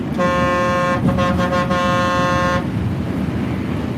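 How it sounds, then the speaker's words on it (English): A loud truck air horn blasts for about two seconds with a brief stutter in the middle, over a rumbling idling engine that continues afterward. "Does Lenny have air horns? And if so, can we hear them?"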